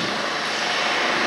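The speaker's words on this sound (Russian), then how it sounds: "вертушка прилетела" A rescue helicopter flies over Vienna, its steady, loud broadband engine and rotor roar filling the whole stretch without pause or voices.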